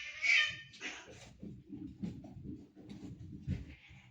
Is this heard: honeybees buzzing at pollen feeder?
no